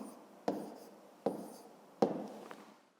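Pen or pencil writing numbers by hand on paper while working a long division problem, heard as three sharp taps at regular intervals, each followed by soft scratching strokes, close and quiet with no talking.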